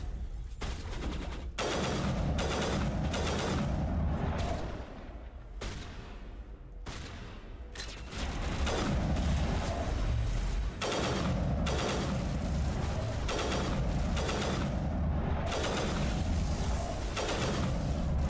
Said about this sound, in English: apparently I just needed to shoot it a couple dozen more times